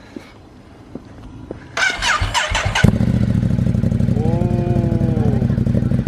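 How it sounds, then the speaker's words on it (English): A 2020 Ducati Monster 821 Stealth twin-cylinder motorcycle cranks with a short whirr of the starter, then fires and settles into a loud, steady, lumpy idle through its exhaust, close by. "we can at least start it so they can hear the exhaust"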